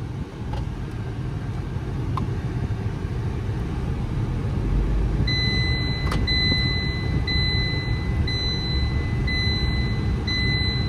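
A Tata Nexon being driven, with steady road and engine rumble throughout and a repeating electronic chime or beep pattern starting partway through, no talk.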